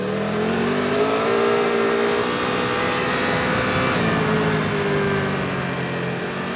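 A Triumph Tiger 1200 GT Pro motorcycle fitted with Mitas Enduro Trail+ tyres accelerating hard, a loud close engine note climbing in pitch, easing briefly, then rising again.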